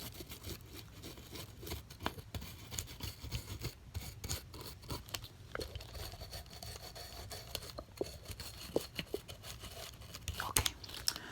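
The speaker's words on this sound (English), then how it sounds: "Okay, we are done with the scraping." Close, quiet scraping and rasping at the teeth in a dental-cleaning roleplay, with fine irregular scratches and small clicks repeating closely and softly throughout.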